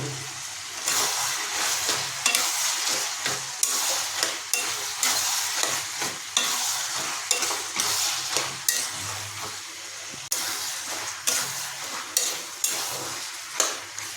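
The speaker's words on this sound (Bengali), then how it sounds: "তাই এটাকে খুন্তিতে আরও কিছুক্ষণ কষিয়ে নেব" Mutton ghugni being sautéed in a wok with a spatula: steady frying sizzle under repeated scraping and stirring strokes in an irregular rhythm, close up and without talk.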